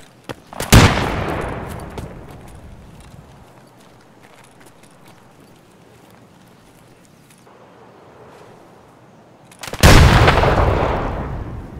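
Two loud, close blasts of grenade explosions and gunfire in the shooter game Escape From Tarkov, one near the start and one near the end, each with a long rumbling tail and faint scattered noises between them.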